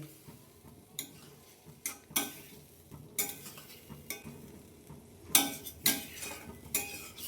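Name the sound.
stirring ridge gourd fritters in a pan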